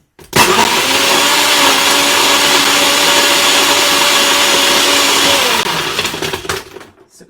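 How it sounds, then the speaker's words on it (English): A blender blending a banana rum cocktail whirs loudly and steadily for about five seconds, then winds down with some rattling clatter as it stops. "It'll come straight out of the blender if the blender can handle it. So apologies for the noise."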